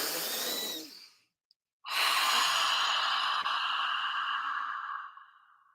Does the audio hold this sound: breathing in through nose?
yes